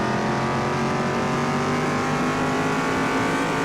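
A car engine in rough shape running in Car Mechanic Simulator 2021: a steady, droning mechanical hum with constant tone and loudness throughout and no pauses.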